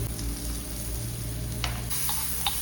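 A spice paste of coriander-cumin powder, red chilli powder and salt sizzling steadily in a pan for an egg sizzler, with a few soft scrapes and clicks of stirring over the close frying hiss.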